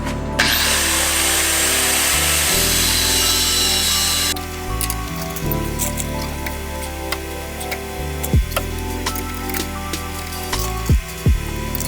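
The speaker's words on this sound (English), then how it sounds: "Too tall, so grinder or hacksaw. Cut that off and then put it back." A power tool cuts through a rear bump stop bolt on a Chevy Colorado during an add-a-leaf spring install. A loud, harsh grinding runs for about four seconds, then lower tool noise continues with a few sharp knocks, and no one speaks.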